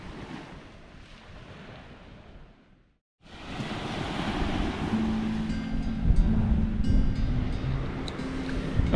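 Sea waves surging onto a beach on the Yorkshire coast near high water, a steady broadband wash that briefly cuts out and then returns louder and fuller, with wind buffeting the microphone and no talking.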